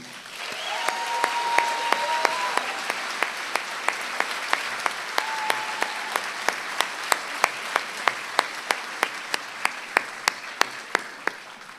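A crowd applauds steadily for several seconds, the clapping sustained and fairly close, with a few sharp individual claps standing out.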